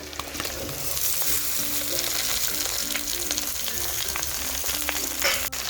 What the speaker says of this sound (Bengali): ঠিক এই পর্যায়ে একটু নাড়িয়ে চাড়িয়ে ঝিঙেগুলোকে ভেজে নেব।